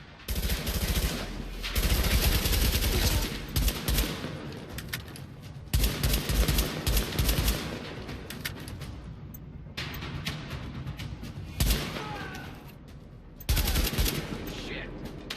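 Sustained automatic gunfire fired at an enemy in The Division, loud dense bursts with brief gaps between volleys over a constant game soundscape.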